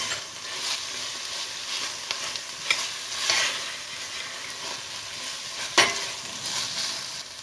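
Tomato paste fries in oil with a continuous soft sizzle, with occasional scraping strokes of stirring and a couple of brief louder clinks.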